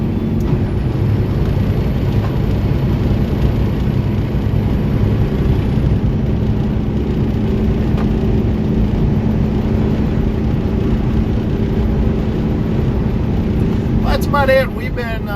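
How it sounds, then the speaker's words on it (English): A tanker truck's engine brake drones steadily while the rig descends a hill in Tennessee, a continuous low rumble with cab road noise beneath it and a voice speaking near the end. "hills like these where Jake brakes or your engine brakes are nice"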